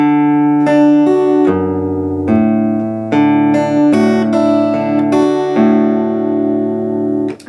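Slow fingerpicked acoustic guitar playing measures of a song, a steady sequence of plucked notes and bass tones ringing clearly with no talking.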